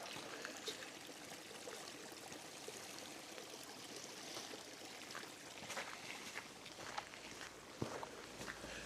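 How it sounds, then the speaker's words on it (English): Steady broadband rush of flowing water, a stream trickling close by at Walker Fold with constant even texture, a few faint clicks and steps near the end. "You just hear the sound of the water here"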